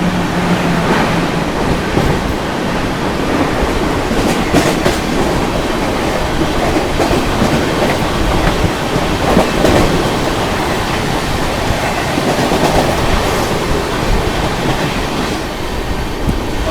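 A Central Railway Rajdhani Express, train 22222, races past at high speed, its loud continuous rumble and rattling wheels steady and close for the whole stretch, with rhythmic clickety-clack over rail joints and no voices.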